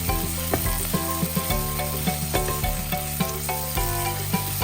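Pounded chili and garlic stir-frying in a wok for Thai basil stir-fry with Chinese sausage, a steady close sizzle broken by repeated sharp clinks of a spatula scraping the pan, with no voices.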